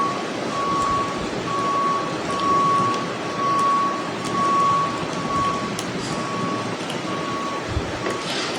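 Bus reversing beeps while parking in a Bangladeshi bus driving game, a steady series of evenly spaced electronic tones over a constant engine rumble, with no talk.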